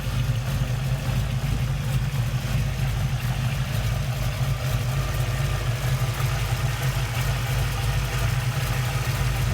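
A 1969 Camaro's engine idles steadily and close by, a smooth, even low rumble that holds without revving or speech.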